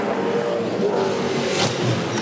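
V8 Supercar race cars competing at the Adelaide 500 street race, a dense continuous engine roar under a commentator talking.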